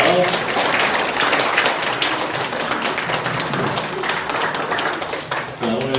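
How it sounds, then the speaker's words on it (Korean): Church congregation at a Sunday service applauding together to welcome first-time visitors, a dense, steady wash of clapping lasting several seconds in a large room, with voices mixed in. "우리 박수로 환영하겠습니다."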